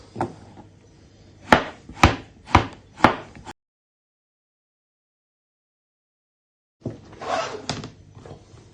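A knife chops two washed vegetables into fine pieces on a board: four or five sharp, evenly spaced knocks, a pause of silence, then a quicker, busier burst of chopping.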